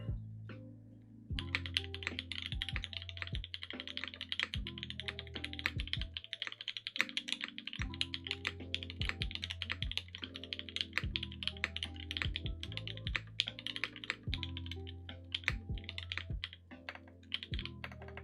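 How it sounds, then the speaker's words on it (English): Rapid, steady keystrokes on a custom Haus mechanical keyboard by Hand Engineering with a gummy O-ring mount, a dense run of close, crisp clacks and thocks that carries on throughout with brief pauses and no talk. "Let's go to monkey type and start typing some stuff."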